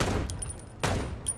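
Gunfire in the video game Chicken Police: a few sharp, short shots crack out in quick succession over a low rumbling game backdrop.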